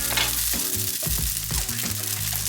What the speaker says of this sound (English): Got the Hakka vegetables to give that a really good stir.